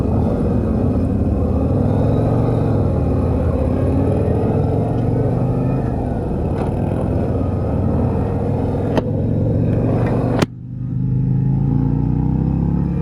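A 2024 Harley-Davidson Street Glide motorcycle engine rumbles steadily with the throttle held open, a deep continuous drone heard up close, broken by a sharp cut and brief dip before the low roar resumes.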